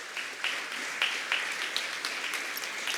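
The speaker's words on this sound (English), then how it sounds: "I would all of you like you to give them a huge round of applause." An audience at an inclusion forum awards ceremony gives a round of applause, a fairly faint, even patter of many hands clapping, heard from a distance and continuing steadily.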